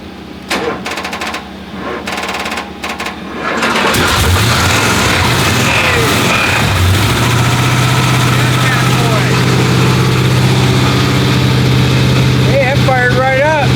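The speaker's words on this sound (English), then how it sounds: "Hey, that fired right up." A 1968 Dodge Charger is push started, cranking and sputtering for a few seconds before the engine catches and settles into a loud, steady rumbling idle close by, with voices heard briefly over it.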